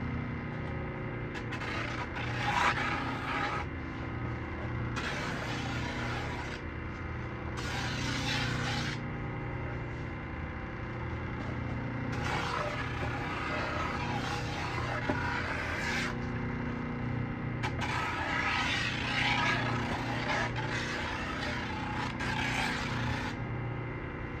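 A drum and flap sander shapes the nose of a board, running as a steady motor hum with repeated bursts of hissing abrasive contact as the wood is worked, near and moderately loud.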